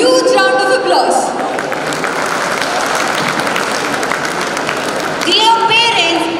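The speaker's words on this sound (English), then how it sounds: "Let us give them a huge round of applause." A school annual day audience breaks into loud, sustained clapping from a large crowd, filling the hall for several seconds, with a voice heard at the start and end over the applause.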